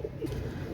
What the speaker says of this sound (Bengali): এক জোড়া ওমান টেডি কবুতর